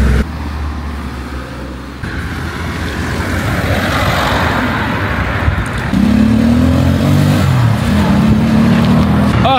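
Busy road traffic in Morocco passes around a rider on a small folding bike, a steady engine roar with vehicles rumbling close by and a droning motor tone rising near the end.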